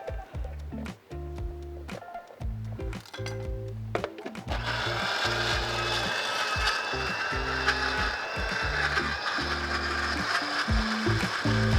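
A mixer grinder blending chutney starts with stuttering pulses, then whirs continuously at high speed with a steady buzzing motor and rattling jar, with no talking.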